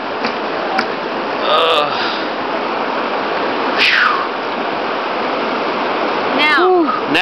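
Steady broadband rush of a hot spring stream flowing outdoors, constant and close, with a few faint bird calls over the top.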